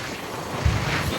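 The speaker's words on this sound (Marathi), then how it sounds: "वाऱ्याचा आवाज मध्ये वाऱ्याच्या आवाजामध्ये पण तुम्हाला दाखवेल" Wind buffets the microphone outdoors at a village fair near Alibag, a loud, brief rumbling whoosh with a thump midway.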